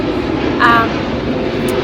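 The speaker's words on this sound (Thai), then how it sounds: "เสียงเครื่องบิน" An airplane passes overhead, a steady broad rumbling drone with a brief swell in the middle, heard outdoors at moderate loudness.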